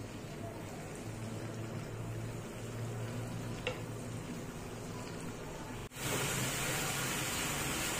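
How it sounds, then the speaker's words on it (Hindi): Masala frying for taro root curry sizzles steadily and quietly in a pan, a soft continuous crackle that briefly dips and then returns slightly louder, with no talk. "इसको एक दो मिनट फ्राई करेंगे"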